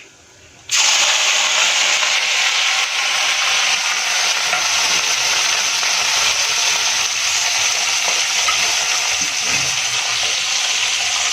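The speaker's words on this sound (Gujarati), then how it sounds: "હવે મીડિયમ સમારેલી આપણે જે ડુંગળી હતી એને આપણે આમાં એડ કરી લઈશું" Medium-chopped onion drops into hot spiced oil for a lauki kofta curry, setting off a sudden loud sizzle that then holds as a dense, even frying hiss close up.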